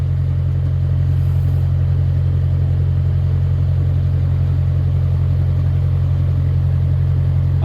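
A car with a tired, smoking BMC engine and a newly changed gearbox pulls along with a loud, steady, close engine drone and no talking.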